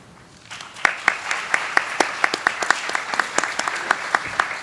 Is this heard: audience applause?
yes